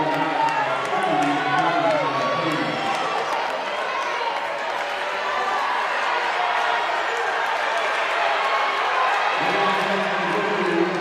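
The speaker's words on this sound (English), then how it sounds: "And the crowd starts getting revved up. You can hear them up in the balconies here, and plenty to cheer for." Crowd noise rises from the balcony stands at a college indoor track meet during the men's 5000 meter final, a steady roar with cheering swells, while a commentator's voice runs over it at the start and end.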